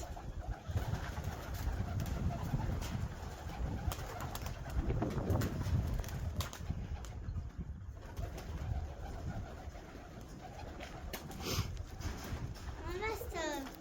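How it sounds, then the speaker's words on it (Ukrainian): Pigeons flying and cooing outdoors, soft repeated coos and wing flutters mixed with ongoing talk and a voice nearby throughout. "Да, бачиш, воно голубі літають."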